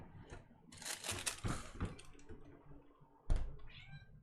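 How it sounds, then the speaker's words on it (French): A cat meows a few times, faint and fairly close, with light rustling and a single knock among the calls. "Oui, le chat."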